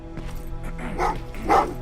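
Several dogs bark and yip in a Terminator video game, a few sharp close barks over a low droning background hum.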